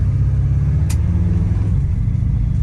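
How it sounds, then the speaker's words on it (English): Low engine rumble of a 1963 Chevrolet Impala with a 700R4 transmission cruising steadily around the block, a constant deep drone throughout with a brief faint click. "taking our 63 Impala for a quick spin around the block here"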